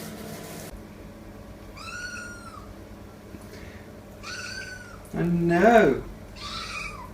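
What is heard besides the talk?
cat Sabra meowing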